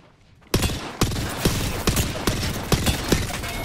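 Gunfire in a first-person shooter starts after a quiet moment and then repeats as loud, evenly spaced single shots roughly every half second, each a sharp crack with a short tail.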